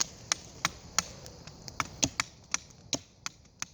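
A knife carves a point onto a wooden stick outdoors at a campfire, giving a run of about a dozen sharp, crisp chopping and scraping strokes in an uneven rhythm, close and fairly loud with no talk.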